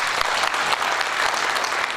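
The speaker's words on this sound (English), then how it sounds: "Please, a round of applause." Applause from an audience at a nation-building lecture fills the whole stretch: dense, steady clapping from a large crowd, loud and continuous with no talk.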